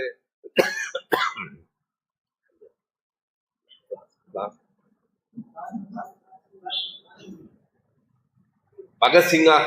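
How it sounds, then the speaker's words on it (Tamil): A few sharp coughs and throat clearings close to the microphone, separated by quiet pauses, with a stretch of speech at the end. "இருமல் இடையில் வந்தாலும் நீங்கள் பொறுத்துக் கொள்ள வேண்டும்."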